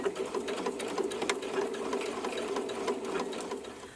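A sewing machine stitches denim jeans fabric, a quiet, steady rapid whirring hum with fine mechanical ticking that runs throughout at even speed.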